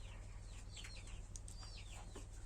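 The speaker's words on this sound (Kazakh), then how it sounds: "Балапан әтештер осылар." Young roosters and chickens cluck and chirp softly in a small backyard flock, scattered short calls over a steady low hum.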